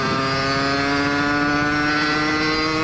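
A 50cc two-stroke moped engine runs steadily throughout, a buzzing tone with strong harmonics holding a fairly constant pitch, loud and close, with no clear gear-shift break audible.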